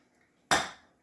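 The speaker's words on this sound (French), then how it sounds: "On va prendre notre petite casserole" A small saucepan is pulled out with one sharp metallic clatter that rings briefly and fades, close by in a quiet kitchen.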